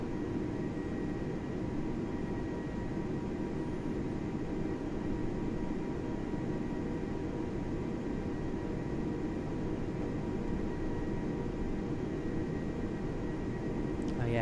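An Airbus A320neo taxis in Microsoft Flight Simulator 2020, in Cathay Dragon livery on a Manila to Hong Kong flight. Its engines give a steady, unbroken whooshing drone with a faint high whine, constant in level throughout.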